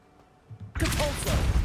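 Lumos spell cast in Hogwarts Legacy: a sudden bright magical whoosh swells at about 0.75 s after a quiet lead-in and keeps a shimmering, sustained glow to the end.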